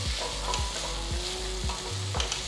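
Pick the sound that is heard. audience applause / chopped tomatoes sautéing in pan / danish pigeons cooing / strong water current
chopped tomatoes sautéing in pan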